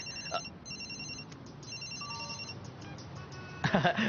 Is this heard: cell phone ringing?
yes